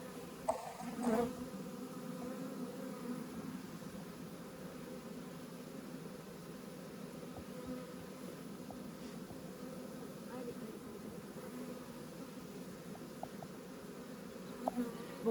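Honeybees buzz around an open beehive in a steady, dense drone that holds throughout, with a few brief handling knocks near the start and soft voices heard faintly in the background.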